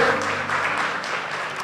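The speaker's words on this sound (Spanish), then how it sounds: "denle un fuerte aplauso al Señor" A church congregation applauds during a first-fruits celebration service, a steady wash of many hands clapping at moderate level with faint voices mixed in.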